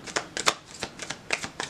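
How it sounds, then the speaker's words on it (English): Tarot cards being shuffled by hand in a quick burst of crisp riffling flicks and soft slaps, close and fairly quiet with no talking. "One more shuffle here."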